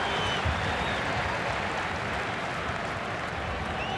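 A stadium crowd at a 2009 Super 14 rugby match between the Waratahs and the Force reacts to a possible try, a steady, dense roar of cheering and applause that holds evenly throughout.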